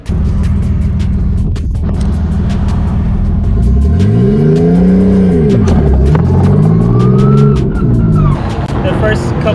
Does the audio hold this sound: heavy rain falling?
no